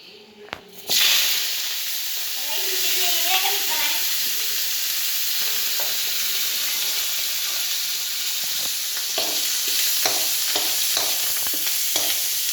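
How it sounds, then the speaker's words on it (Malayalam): Dried red chillies and curry leaves hitting hot oil with fenugreek seeds, a sudden loud burst of sizzling that settles into a steady, close hiss with faint crackles and occasional stirring taps. "അപ്പോൾ നമുക്കിനി വറ്റൽമുളകും വേപ്പിലയും ഇടാം."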